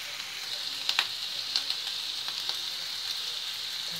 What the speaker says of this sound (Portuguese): a água pegou fervura